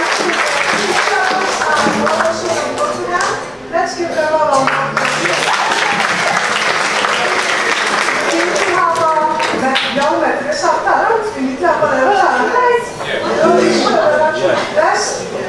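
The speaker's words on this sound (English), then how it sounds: "Let's give them all a round of applause." A church congregation at a Methodist Advent Sunday service breaks into sustained applause, loud and close, with dense clapping running the whole stretch and voices mixed in.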